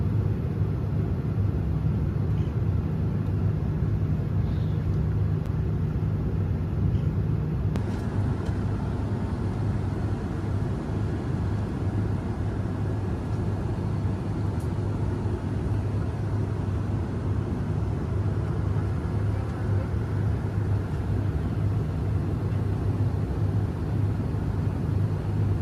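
Steady, broadband roar of a SriLankan Airlines airliner cabin in cruise flight over the Andaman Islands, a continuous low hum and rush that stays constant throughout with no talk.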